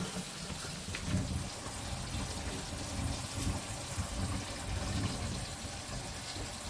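Water runs steadily from a kitchen faucet into a sink fitted with a leaky flange, with a bucket set underneath. The flow is a continuous, moderately loud gushing splash that holds level throughout, with no voices.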